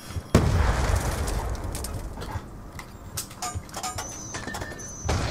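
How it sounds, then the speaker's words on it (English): A grenade explosion in Call of Duty Black Ops II: one sharp, loud blast near the start, followed by a sustained rumbling tail and scattered game effects, with a second smaller pop at the end. "Yeah, grenade."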